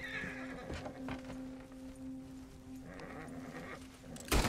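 A horse whinnies in a drawn-out, wavering neigh, moderately close, with shuffling hoof-like thumps around it and a sharp loud burst at the very end.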